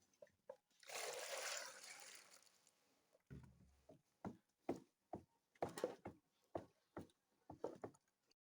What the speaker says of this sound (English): So I'm pouring it into the main bowl.